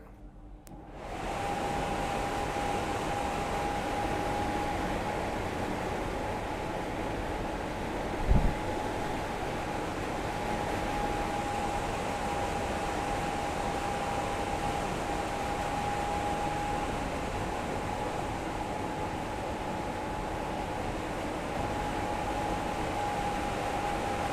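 A V-Guard tower fan switched on and running, giving a steady, even broadband whoosh of moving air with a faint constant whine, continuous and close with no talking.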